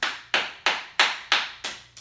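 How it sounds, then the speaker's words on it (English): Hands clapping during a gentle healing yoga session, seven crisp, evenly spaced claps in a steady rhythm, close and fairly loud, each one ringing briefly before the next. "coming all the way down, clapping your hands"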